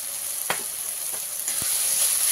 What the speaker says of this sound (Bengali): দিয়ে একটু ভালো করে ভেজে নেব।